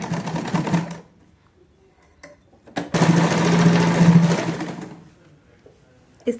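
A sewing machine stitches over an existing seam to join the front and back panels of palazzo trousers with a hidden pocket, running in two bursts, a short one at first and then a longer, steady one, with no talk over it.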